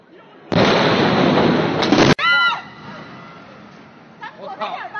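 A sudden loud explosion blast at night during the 2015 Tianjin disaster, a roaring burst lasting over a second that cuts off abruptly, followed by startled shouting voices close by.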